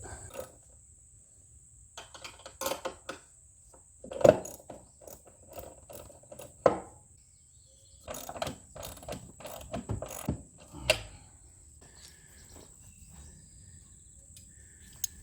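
Metal bumper hardware being tightened on a golf cart with a ratchet wrench, quiet bursts of ratcheting clicks and mechanical clatter repeating in short runs, close by, with no talking.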